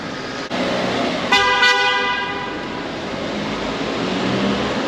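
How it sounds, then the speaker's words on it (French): A car horn honks in a short burst of two close blasts, loud and near, over steady outdoor background noise. "Mais arrête de klaxonner."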